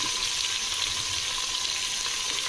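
Onions frying in a pan for an Afghani mutton dish, a steady, dense sizzle that holds even and close throughout, with no voices over it.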